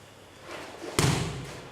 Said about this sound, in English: Ooh, nice thud.